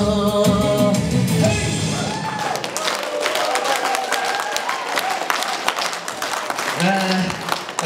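Wedding guests at a Kazakh toi clap steadily, a dense patter of handclaps rising through the middle of the clip over loud festive music, with voices mixed in.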